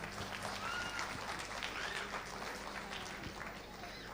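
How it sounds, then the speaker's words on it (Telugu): Audience applause greeting a speaker at an evening gathering, steady dense clapping that fills the whole stretch at moderate level with some crowd murmur mixed in. "మీ అందరి చప్పట్ల మధ్య ఆహ్వానిస్తున్నాను"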